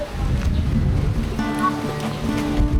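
Rain falls outdoors as a continuous close hiss with a rough, splashy texture, loud and even throughout, with some faint tonal sounds mixed in the background.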